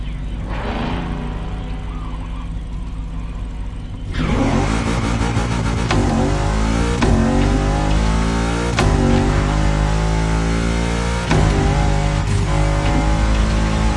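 Off-road race cars revving in Motorfest, a steady engine drone that jumps louder partway through, with rising and falling rev sweeps and occasional sharp gear-change bursts, close and continuous.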